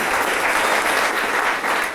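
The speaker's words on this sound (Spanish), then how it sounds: "¿Le damos un aplauso al Señor?" A church congregation applauds together, producing a thick, continuous burst of clapping that holds at an even, loud level for a couple of seconds.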